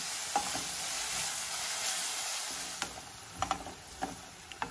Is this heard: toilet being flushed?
no